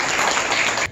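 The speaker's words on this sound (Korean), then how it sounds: "큰 박수 한번 주십시오." Applause from an audience at a fishing association chairman's inauguration ceremony in a convention wedding hall, a dense burst of clapping cut off abruptly after about a second.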